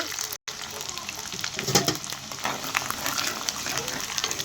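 Garlic cloves frying in hot oil in a pan with mustard seeds and curry leaves, a steady close sizzle with crackling pops, briefly cut by a short silent gap near the start.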